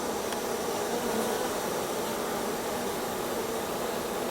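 Honey bees buzz at an open hive, making a dense, steady drone of many wings close by that stays even throughout, with no voices.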